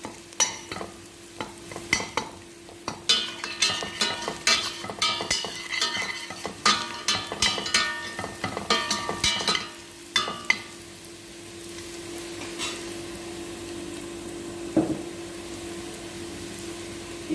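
Rice with spices, bay leaves and cinnamon stick is stirred in a pan, giving repeated scraping and clinking strokes over a steady sizzle, busy for about ten seconds before settling into a quieter frying hiss.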